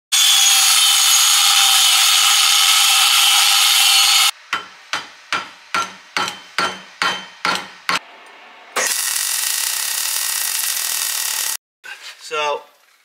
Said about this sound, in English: we're just going to cut it down through there, bash it out and put this in, nut and bolt it, weld it